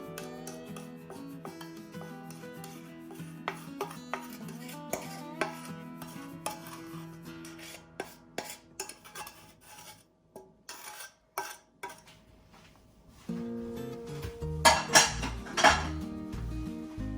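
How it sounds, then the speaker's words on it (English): Pecans being stirred into a bourbon pecan pie filling in a bowl, giving a run of clinking and scraping utensil-on-dish knocks, irregular and close, growing louder and busier toward the end. "We're just gonna start coating the pecans in with it."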